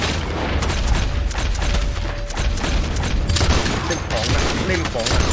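Rapid machine gun fire in the Western video game Red Dead Redemption 2, loud and dense bursts rattling almost continuously for about five seconds, with a voice partly over the shooting.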